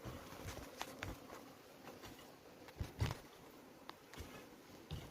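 Faint, steady buzzing of Apis cerana honey bees hovering nearby during hive transfer to a traditional box, with occasional soft taps and rustles against a quiet background.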